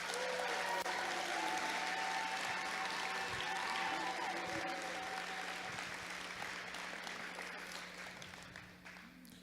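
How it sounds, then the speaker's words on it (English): Audience applauds judges and referees at a FIRST Tech Challenge robotics closing ceremony in Lake Country, Wisconsin, a steady wash of many hands clapping across a large room that holds throughout and gradually fades toward the end. "let's give them a round of applause for all they did today."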